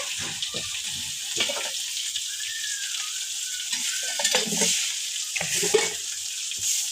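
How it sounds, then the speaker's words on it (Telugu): Okra frying in oil in a pan over low heat gives a soft, continuous sizzle close by, broken by a few louder crackles and stirring scrapes. "సిమ్లోనే పెట్టి వేయించుకోవాలి బెండకాయలు"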